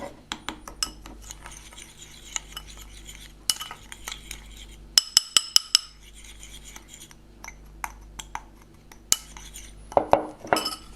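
Mustard powder and salt being mixed for a chicken or lamb tikka marinade, with close, irregular clinks and scrapes of a utensil against a dish, separated by short pauses and a busier flurry near the end.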